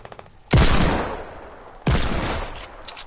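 Two heavy sniper shots in a video game, each a loud booming crack with a long rolling echo, about one and a half seconds apart.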